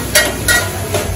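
A cook makes dal fry in a pan, loud close sizzling with three sharp stirring scrapes spaced across the sizzle.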